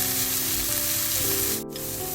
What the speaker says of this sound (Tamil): சேர்த்துட்டு நல்லா கலந்து இன்னும் கொஞ்ச நேரம் நல்லா வதங்க விட வேணும்.